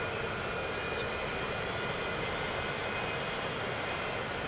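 Airplanes in the transport simulation game Transport Fever 2 drone steadily with a broad, even engine roar throughout, no talk over it.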